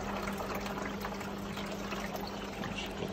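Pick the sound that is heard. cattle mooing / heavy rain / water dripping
water dripping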